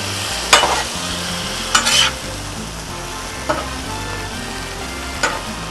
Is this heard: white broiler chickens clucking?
no